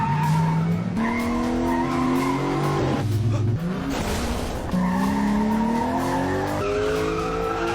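Animated race cars in a fruit-themed race screech through repeated tire skids, with long sliding squeals and engine whine rising and falling continuously at close range.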